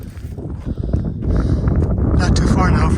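Wind buffeting the microphone on a mountain trail near an overlook, loud gusty rumble building and holding steady while a person speaks over it.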